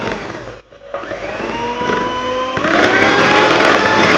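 An electric hand beater whirs steadily through cake batter after oil and vanilla essence are added for a Goan dates and walnut cake, a continuous motor drone with a brief dip in loudness before running on, rising slightly.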